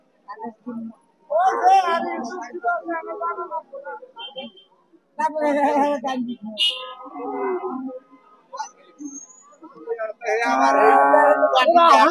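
A Jersey heifer calf at a cattle market lows repeatedly in several drawn-out, fairly close calls spread across the clip, with quiet pauses in between.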